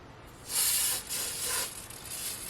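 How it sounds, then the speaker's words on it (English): A couple of soft, close hissing bursts from a spray bottle misting onto a pastel painting, the first stronger, followed by a fainter lingering hiss. "let's give it another spray."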